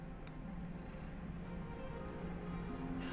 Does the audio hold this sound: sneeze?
no